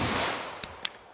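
A .357 SIG round fired into four layers of denim backed by quarter-inch MDF: one loud, close report that decays into a ringing tail, followed by two small sharp clicks.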